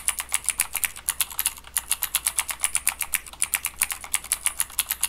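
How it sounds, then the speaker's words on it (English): Steady run of crisp, clicky mechanical keyboard keystrokes simulating Cherry MX switches, fast and even, close up with no talking. "And then you'll have a keyboard that sounds like this."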